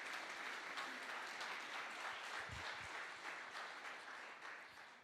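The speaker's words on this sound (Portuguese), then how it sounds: "Pode aplaudir Jesus na vida dela." Thick, continuous applause from a church congregation, steady and even, slowly fading toward the end, with a brief low thump partway through.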